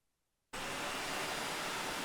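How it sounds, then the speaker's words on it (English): A household vacuum cleaner switches on abruptly and runs with a loud, steady broadband roar that holds without pause to the end. "let's turn back on that vacuum"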